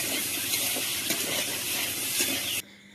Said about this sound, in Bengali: এই যে এখন আমি ভাজাটা বসিয়ে দিয়েছি, এটা আর কি একটা মিক্সড ভাজা